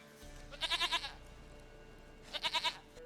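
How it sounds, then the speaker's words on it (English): Two bursts of goat bleating from The Witcher 3, each a quick wavering series of four or five pulsed bleats, the first near 0.6 s and a shorter one near 2.4 s, clear and fairly close over a faint low game ambience with no talk. "Goat of mine, dearest, sweetest goat."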